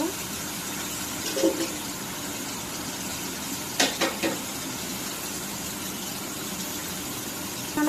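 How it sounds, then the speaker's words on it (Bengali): Fish curry masala sautéing in a pan, a steady low sizzle and fry hiss with scattered scraping stirs and a few sharp squeaky clinks, no talking. "ভালো করে কষায় নিব"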